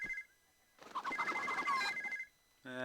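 A telephone rings in the Pippa Funnell Ranch Rescue video game: a short electronic tone, a burst of noisy clatter, then the ringing tone starts again, clear and close.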